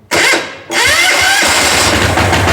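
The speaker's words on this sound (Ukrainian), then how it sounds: "Дизельочок запускається на максимальних обертах." A diesel walk-behind tractor engine starts at full revs: a brief loud burst, a short lull, then a sudden roaring catch into a steady, close, rattling high-rpm run.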